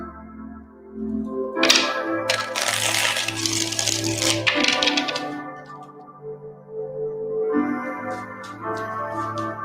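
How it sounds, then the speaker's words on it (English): Tarot cards are riffled and shuffled in a quick fluttering burst, followed by softer handling and a few light taps, with gentle music playing underneath. "Let's give it two more shuffles."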